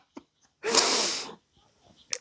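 A single loud sneeze bursts out close by, followed by a few faint breaths and small mouth sounds in otherwise quiet surroundings.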